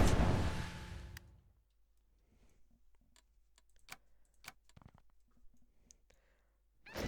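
Mouse clicks while playing Hearts of Iron IV, a grand strategy game: scattered sharp, close clicks in irregular bursts over a near-silent background, after a louder, fading game sound at the start.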